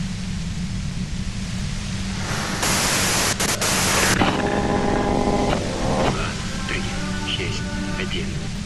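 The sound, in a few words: white noise static in Disco Elysium video game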